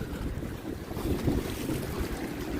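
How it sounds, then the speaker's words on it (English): Steady, roaring wind buffets the microphone, with a broad rushing noise and low rumble that never lets up, beside a high, rising river with waves at Sainte-Anne-de-Bellevue, Quebec. "The wind is coming towards us."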